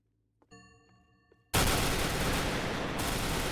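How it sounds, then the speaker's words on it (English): Gunfire in the video game Repleh County: a few faint tones sound, then a sudden, very loud sustained burst of rapid shots fills the rest of the clip. "County to 5 for shots fired."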